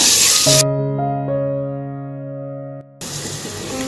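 Chopped small onions and sliced onions sizzle in a hot pan with ginger and garlic, a steady frying hiss heard at the start and again at the end, broken by a long sustained tonal stretch in between.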